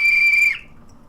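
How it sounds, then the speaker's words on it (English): A single sharp whistle blast rings out loud and steady for about half a second, then cuts off abruptly into quiet. "I'd like to do just the quick whistle test."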